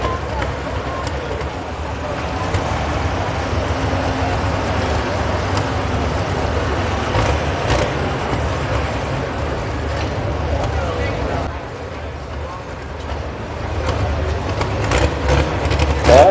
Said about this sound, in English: another good pulling tractor